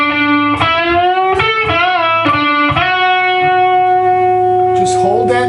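Electric guitar plays a lick from a song, with bends and a slide up the third string. Several plucked notes ring out with distortion and reverb, the last held and sustained, loud and close.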